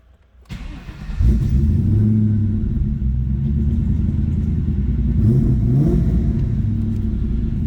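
A 2000 Ford SVT Mustang Cobra R engine cranks over and settles into a loud, steady rumbling idle, then revs up and falls back in a couple of rising and falling sweeps, heard close with no voices.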